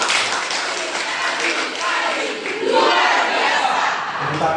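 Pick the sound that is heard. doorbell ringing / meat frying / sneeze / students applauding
students applauding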